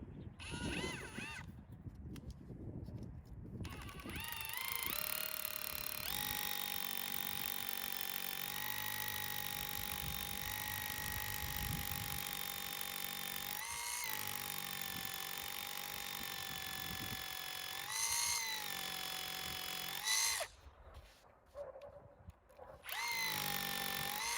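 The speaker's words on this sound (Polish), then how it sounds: "żeby wywiercić otwory. Ja najpierw robię to wiertłem dziesiątką" A power drill with a 10 mm bit drills holes for a heat pump ground stand, whining steadily for a long stretch, loud and close, with brief pauses at the start and end where the motor spins up and stops.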